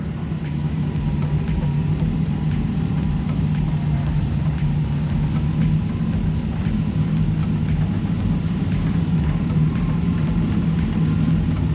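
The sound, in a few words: Roadster car driving away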